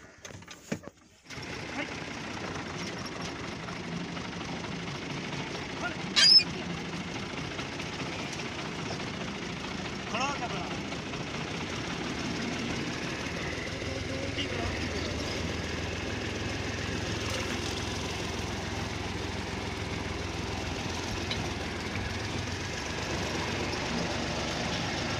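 A tractor engine starts with a short cranking burst, then settles into a steady, low idle that runs on at moderate loudness for the rest of the stretch, with no talk over it.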